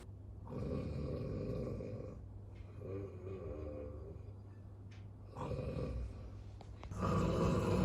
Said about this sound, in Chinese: 这一个呼噜比一个呼噜打的响